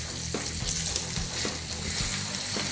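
Tater tot hot dish ingredients stirred in a hot frying pan as they start to stick, producing a steady close sizzle with soft scraping strokes from the stirring throughout.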